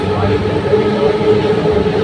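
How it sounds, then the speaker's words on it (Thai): A train rumbles across an overhead railway bridge in Thailand, a steady, continuous roar that stays loud and even throughout, with voices faintly mixed underneath. "ข้างบนนี่เป็นอันทางรถไฟ"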